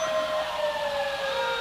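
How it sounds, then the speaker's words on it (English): Emergency vehicle sirens blare steadily during an old-time holiday parade in Ashland/Hanover, a sustained wailing tone that holds at moderate loudness throughout the short stretch with no talking. "Wouldn't be a parade without the sirens."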